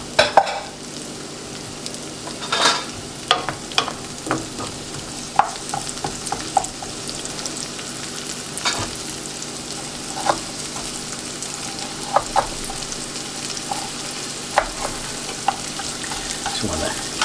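Onions sizzle and fry in a pan for a frittata, a steady close hiss broken by frequent clicks and scrapes of stirring, with no talking.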